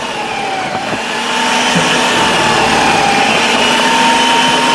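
An electric food processor runs steadily and loudly, its motor whine holding throughout with a slight rise in intensity after the first second, with no one speaking.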